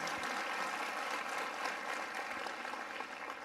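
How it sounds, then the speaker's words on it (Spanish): A church congregation in Guatemala applauds steadily for a few seconds, a dense, even patter of many hands filling the room with no voices on top. "Qué bonito aplauso eso."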